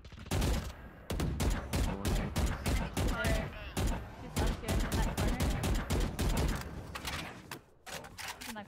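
Rapid gunfire in a video game, dense bursts of sharp shots firing in quick succession, loud and close, continuing almost without pause across the clip.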